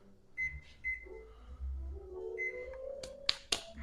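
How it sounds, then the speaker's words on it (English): A kitchen oven timer sounds a few short electronic beeps, moderately close, amid faint room hum and a couple of sharp clicks near the end. "We're gonna set our timer for 65 minutes."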